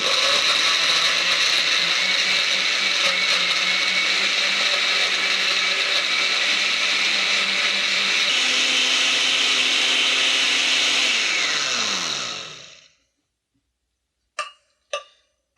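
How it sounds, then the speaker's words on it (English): A blender crushing ice for a frozen mudslide cocktail runs loudly and steadily with a grinding, crunching roar, the motor pitch dropping near the end before it shuts off, followed by a couple of clacks. "Gonna put the cap on the blender. Just blend it till it's nicely crushed up."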